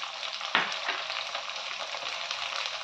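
Carrots and other vegetables for veg pulao fry in a pan, giving a steady close sizzle with a sharp burst as food hits the hot oil near the start, then constant crackling with light stirring.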